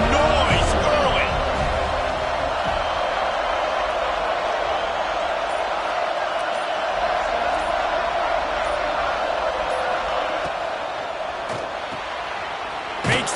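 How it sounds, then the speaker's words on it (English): A college football stadium crowd roars with a broad sustained wash of cheering and noise, loud and distant-sounding, with a few sharp thuds and an announcer talking over it. "This crowd bringing the energy and noise early."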